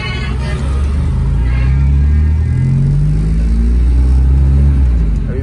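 Honda Civic fitted with a Kenwood speaker, driving with a steady low engine rumble and road hum that swells slightly mid-way, close and continuous throughout.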